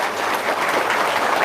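A crowd at an Indonesian motivational talk breaks into steady, dense applause, loud and continuous, with no voices over it.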